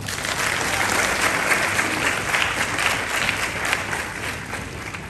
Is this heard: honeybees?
no